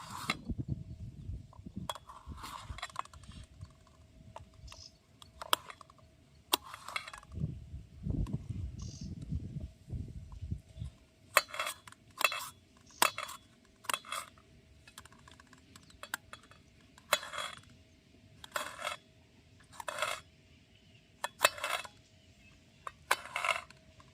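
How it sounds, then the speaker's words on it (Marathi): Onion and tomato being cut outdoors by a river, with rhythmic, crisp knife chops coming in bursts after an earlier stretch of rustling handling noise. "मी कांदा आणि टोमॅटो कापतोय"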